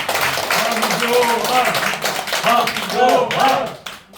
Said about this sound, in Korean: 다시 한번 우리 황교안 대표님 뜨거운 박수를 한번 드리겠습니다